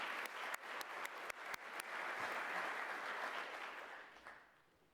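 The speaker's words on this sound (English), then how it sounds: "we can give them a round of applause as well" Staff at an all-employee meeting applaud new child care assistants. Crisp individual claps build into a moderate round of applause from a modest audience, heard at a slight distance, which gradually fades out.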